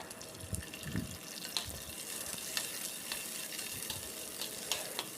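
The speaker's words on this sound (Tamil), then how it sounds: "நல்லா இஞ்சி பூண்டு வதங்கினதுக்கப்புறம் 2 பச்சை மிளகா." Ginger, garlic and green chillies sauté in a pan as mutton kola urundai is being made, giving a steady soft sizzle broken by occasional scrapes and stirs, with faint watery clinks in the background and no voices.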